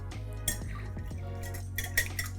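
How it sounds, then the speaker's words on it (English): A utensil whisks whole milk and an egg in a bowl for pancake batter, giving quick, light clinks and scrapes against the bowl, close and fairly quiet. "We have some whole milk. I'm going to just give this a quick mix"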